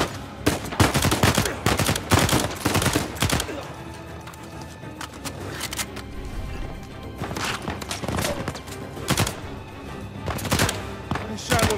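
Rapid video game gunfire in Uncharted 4, with dense bursts of loud shots clustered at the start and end and scattered shots in between, over a busy action soundscape.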